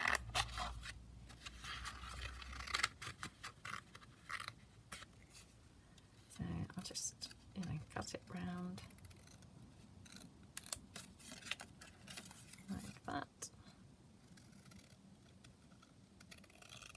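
Scissors cutting a paper flip-down made from sheet music, with soft close snips and paper scraping in a quiet room, while a voice speaks softly throughout.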